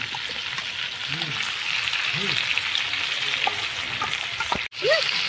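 Chicken frying with masala in a pan: a constant close crackling sizzle with scraping stirs and soft clinks, while a voice speaks quietly underneath and a short sharp knock comes near the end.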